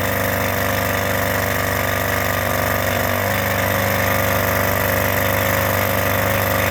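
A 1979 Suzuki JR50 minibike's small two-stroke engine runs steadily close by, a loud, continuous buzzing drone that holds throughout.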